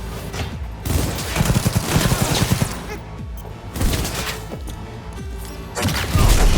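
Bursts of automatic gunfire rattle through a Cyberpunk 2077 firefight in repeated loud volleys, broken by thuds and brief lulls.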